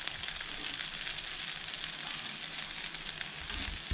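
Vegetable slices shallow-frying in a pan for a Goan home-made veg thali give off a steady, dense sizzle that holds evenly at close range, with no voices.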